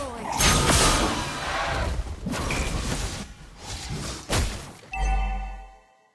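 Mobile Legends 5v5 match audio with a sharp crash and whooshing impacts as a turret is destroyed, followed by a chiming announcer tone, loud game effects in bursts with a voice over them.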